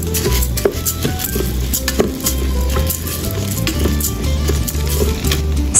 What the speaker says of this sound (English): Add rice and stir fry.